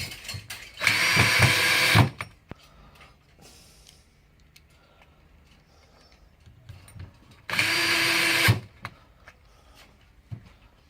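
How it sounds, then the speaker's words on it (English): Power drill driving screws into the filter bracket of a 1000 PSI misting pump, with two loud, close whirring bursts of about a second each separated by quiet handling. "Put in your all 4 screws into the filter."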